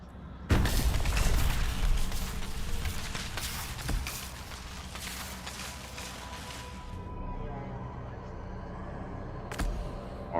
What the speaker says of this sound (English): they explode in a fireball. So there's going to be death and explosions everywhere.